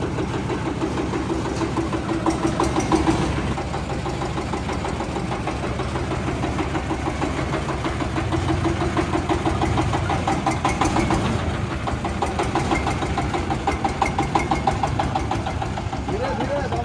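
An engine idles with a steady, close, rough rumble as a vehicle reverses to deliver a corn threshing machine; a man calls out instructions over the running engine.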